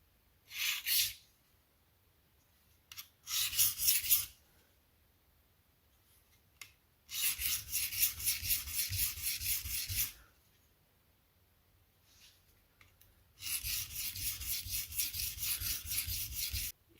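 Sharpening the tanto edge of a Benchmade OTF knife, with repeated bursts of bright rasping strokes against a sharpening stone, some short and some in longer rhythmic runs, separated by quiet pauses.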